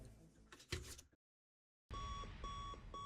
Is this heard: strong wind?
no